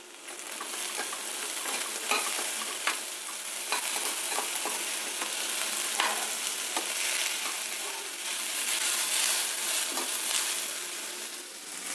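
Capsicum and brinjal stir-frying in a pan over medium flame, a continuous sizzle with repeated scraping and stirring strokes of a spatula, close and steady.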